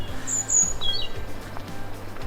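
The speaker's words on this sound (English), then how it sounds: "Bit of bird song there" Several bright, high bird calls ring out in a forest, quick chirps and short song phrases clustered in the first second, over a steady low hum of background ambience.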